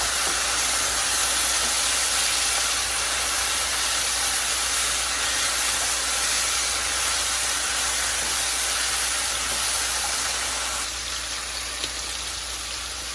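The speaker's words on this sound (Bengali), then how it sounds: "এদিকে মাছ হচ্ছে ভাজি" Fish fries in a pan alongside onions and garlic, making a loud, continuous sizzling hiss that stays steady from start to finish and eases slightly near the end.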